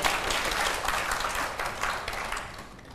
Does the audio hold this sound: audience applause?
yes